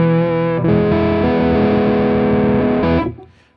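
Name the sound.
hiss from guitar pedal's drive setting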